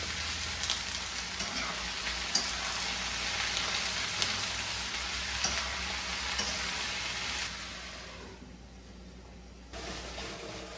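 Chopped ingredients with salt and turmeric frying in a pan, a steady close sizzle with faint stirring clicks that dies down briefly near the end before resuming.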